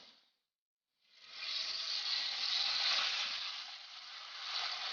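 Baby corn pieces dropped into hot oil for a Manchurian dish give a steady, loud, close sizzle right after a moment of silence. The hiss holds evenly throughout.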